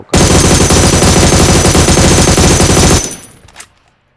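Rapid automatic gunfire from a mobile shooting game, a loud continuous burst lasting about three seconds, cut off sharply and followed by a faint trailing echo and a small final pop.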